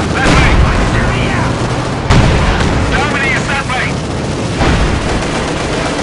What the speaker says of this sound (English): One last artillery barrage for all time's sake